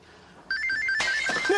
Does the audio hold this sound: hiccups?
no